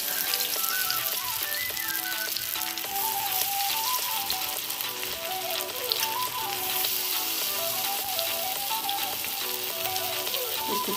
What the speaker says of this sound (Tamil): எண்ணெய் சூடாயிருச்சு. இப்போ ஒரு மீன் துண்டா போட்டு எடுத்து